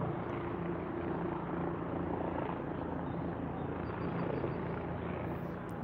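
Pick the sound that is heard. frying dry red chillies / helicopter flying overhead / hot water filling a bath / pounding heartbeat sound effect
helicopter flying overhead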